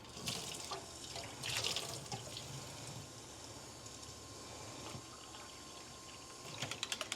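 Hot water pours from a tap into a container, a soft continuous splashing stream with a few brief louder surges and light clicks near the end.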